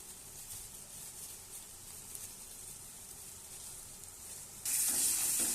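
Fried food with a little added sugar being stirred in a hot pan, giving a steady low sizzle that jumps to a louder, brighter hiss near the end; no voices.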